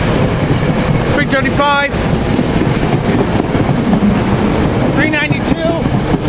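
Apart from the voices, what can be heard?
five-car train passing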